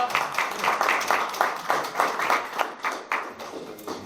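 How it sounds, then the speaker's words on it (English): A small crowd at a school board meeting claps in a quick, uneven patter of hand claps that rises and eases over a few seconds. "Another round of applause"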